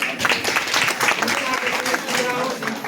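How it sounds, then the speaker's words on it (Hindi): A seminar audience breaks into lively applause and clapping, close and fairly loud, sustained across the moment with some voices mixed in among the claps. "आदरणीय जोशी सर और सुदेश दिमान सर मैं जोरदार ताली चाहता हूँ।"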